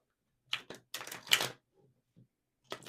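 A few quick papery riffles and snaps of tarot cards being shuffled, in short close bursts separated by pauses.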